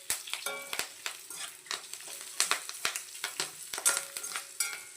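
Curry leaves and ground black pepper frying in a pan for pepper rasam tempering, a steady close crackling sizzle with light stirring clicks and occasional sharper pops, no talking.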